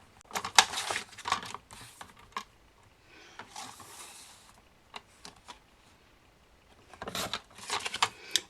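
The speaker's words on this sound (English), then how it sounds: "we're going to cut this label first" Scissors cut paper craft labels for a kids' Bible craft page, with crisp, close snips and rustling paper coming in short clusters, then a quieter stretch before another quick run of cuts.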